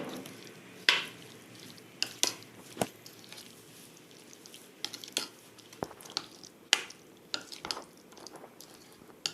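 A spoon stirs appam batter after baking soda is added, giving repeated sharp clicks and scrapes against the bowl with a soft wet swishing between them, close and alone.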